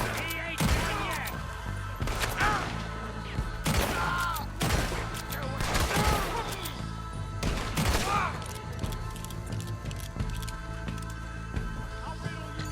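Repeated gunfire in the Western video game Red Dead Redemption, a run of loud, sharp shots spaced a second or two apart over a steady outdoor background, with no talk.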